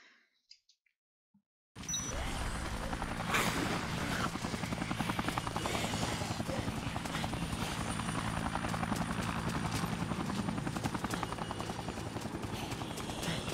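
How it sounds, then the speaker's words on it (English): Helicopter in the video game Dead Rising, a steady rapid rotor chop that starts abruptly after a brief near-silent moment and continues loud and unbroken. "let's see if we can't kill this her helicopter."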